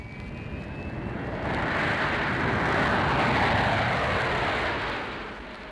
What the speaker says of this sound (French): l'avion quitte le sol